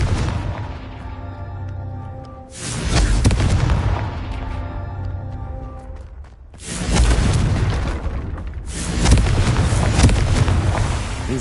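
Confringo explosive spell from Hogwarts Legacy, three loud booming blasts, each a sharp burst that decays into rumble, spaced a few seconds apart with no talk.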